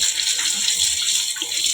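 Water running steadily from a tap while ash is rinsed off during washing, a continuous close splashing rush with no pauses.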